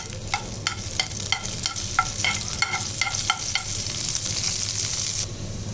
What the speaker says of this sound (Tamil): ஒரு 4-5 பல்லு பூண்டு, உரிச்ச பூண்டு, இப்போ இதில் 2 பச்சை மிளகாய் போட்டுக்கலாம். இப்போ இது நல்லா வதக்கிடலாம்.